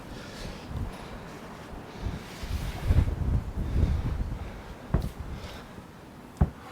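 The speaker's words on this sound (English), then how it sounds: "Good grief, this wind." Outdoor wind gusts buffet the microphone with low, uneven rumbling that swells and fades, with a few sharp bumps near the end.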